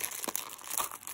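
Gift wrapping paper on a Secret Santa present crinkles and tears in a few quick bursts, close and fairly quiet, with no talking.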